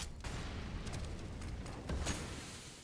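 Incendiary grenade bursting into flames during a Counter-Strike match on the Inferno map, a dull rumbling whoosh of fire with a couple of faint pops, at moderate distance and without talk.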